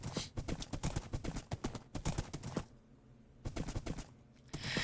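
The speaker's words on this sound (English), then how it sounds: "Let's get our horse and head across." Horse hooves clip-clop in the Minecraft video game while a player rides across a bridge, a quick, steady run of hoofbeats that breaks off briefly, then resumes, with no talking.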